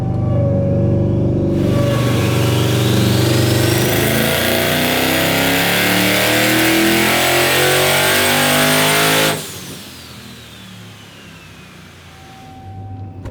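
Twin-charged Ram TRX engine on a dyno, revving hard and loud for several seconds with rising harmonic whine, then cutting sharply back to a lower idle rumble, no voices.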